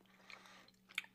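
Close, quiet chewing of a peanut butter cookie from a bakery, a couple of soft crunchy bites within about a second, with no talk.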